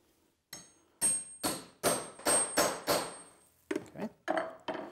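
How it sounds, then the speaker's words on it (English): Eight sharp hammer blows drive a lathe drive spur into the center point on the end of a wooden stool leg blank, loud and close, in an uneven rhythm with short pauses and a few quicker strikes near the end. "I'm going to use a drive spur and pound that in one end on the center point."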